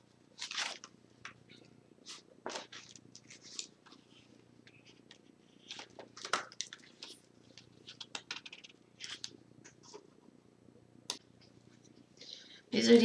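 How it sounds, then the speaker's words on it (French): A small pet cat fidgets and purrs close by, with quiet scattered rustles and scratchy bursts over a faint purring rumble and a louder scuffle at the end, no talking heard. "j'avais mon petit chat qui faisait des siennes"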